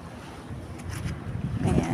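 Ocean waves wash over rocks on a beach, a steady broadband rushing surge that swells louder toward the end, mixed with wind buffeting on the microphone.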